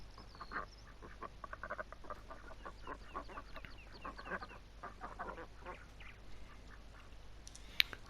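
Ducks in the video game Farming Simulator 19 quack in irregular bursts. The sound is faint and steady, with a low ambient hum beneath it and one sharp click near the end.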